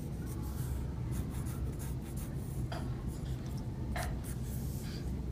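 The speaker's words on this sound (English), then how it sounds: "I'm drawing really lightly, so if I want to change, I can erase it easily." A pencil sketches lightly on paper while drawing a wolf, soft scratchy strokes repeating in short bursts, close and quiet under a low steady background.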